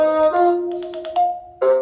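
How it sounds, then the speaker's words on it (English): Two-tone phone notification chimes, a sustained tonal alert followed by a second bright ping, loud and close with no talk. "Just got 2 notifications"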